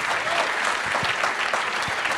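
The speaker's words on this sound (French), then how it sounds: "ça mérite quand même quelques applaudissements, non?" Audience applause at a live DroidCon Paris tech talk, a dense steady wash of clapping from a crowd filling the whole moment at even loudness, with a few sharper individual claps standing out near the end.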